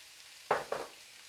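White onions going back into a hot frying pan produce two quick, close bursts of sizzling, one right after the other, against near silence.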